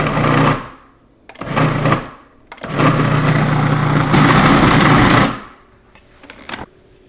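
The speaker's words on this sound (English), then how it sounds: "you'll get a dough ball that moves around the bowl of the processor" Food processor whirring as it mixes all-purpose flour into fresh pasta dough, a loud motor hum running in three pulses of rising length, then stopping, with faint bumps and clatter afterward.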